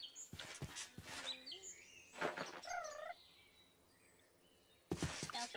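A bird Pokémon's calls and chirps in Minecraft with the Pixelmon mod, a few rising whistled tones among scattered clicks and taps, with a short quiet gap before a final burst.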